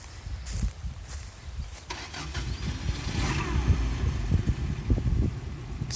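A Subaru Brat that sat twelve years in a barn cranks and restarts after stalling. It settles into a rough, close engine rumble mixed with broadband clatter and a few faint voices.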